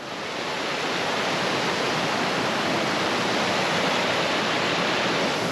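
A mountain river rushing in a broad, constant roar of white water, loud and close throughout with no voices.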